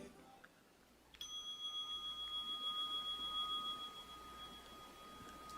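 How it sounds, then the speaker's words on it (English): A single bright bell struck once, its pure ringing tone sustaining with a gentle pulsing shimmer and slowly fading in a quiet room, signalling a breathing exercise. "there's a bell"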